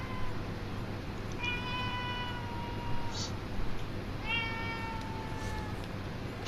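A cat meows twice in a video game, each a clear, drawn-out cry a few seconds apart, heard over a low steady background murmur with no clear speech.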